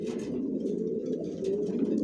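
Johnson long-distance racing pigeons coo steadily inside a loft, a dense continuous murmur of overlapping low calls from several birds close by, with no talking.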